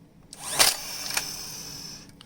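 A Craftsman CMCN618 18V cordless nail gun, in for repair and misfiring, fires once with a sharp, loud mechanical snap and then gives a fainter second click, each followed by a whirring motor hum, close up with no voices.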